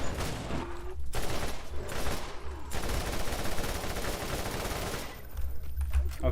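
Automatic turret firing in the video game One Life Roland: dense, sustained bursts of gunfire that keep on for several seconds, loud and close, broken only by a few brief gaps.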